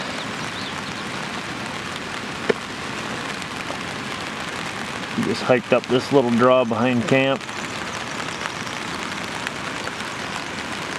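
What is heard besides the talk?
steady rain falling outdoors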